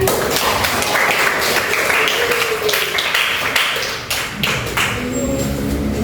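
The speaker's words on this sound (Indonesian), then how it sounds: "Oke, semuanya tepuk tangan." Schoolchildren clapping together in a classroom during a lesson, a dense, continuous patter of many small hands filling the room for several seconds, with faint voices beneath.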